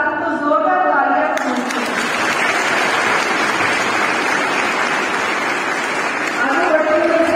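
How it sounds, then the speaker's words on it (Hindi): Loud, sustained applause fills a hall at a women's college function, rising out of a man's amplified speech and running for several seconds before his voice returns. "इसके लिए शुभकामनाओं के साथ तो जोरदार तालियां"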